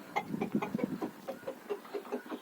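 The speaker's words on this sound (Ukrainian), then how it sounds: "Тут у нас на цьому дворі лише півники." Soft, rhythmic clucking from a few roosters close by, a steady series of short throaty calls.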